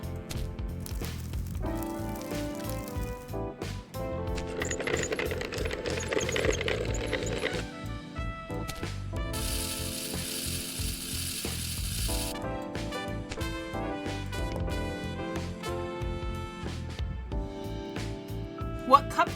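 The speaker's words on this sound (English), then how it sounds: "Grind the coffee and pour it into the machine." Coffee being ground in the café video game Zipp's Cafe: a run of ratcheting, grinding mechanical clicks with a burst of hissing noise, set against looping game music and occasional small chimes.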